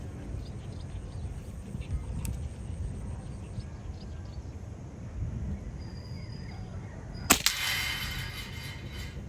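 A PCP air rifle fires at a target 25 meters away, with a sharp crack near the end, followed quickly by a second report over steady outdoor background noise.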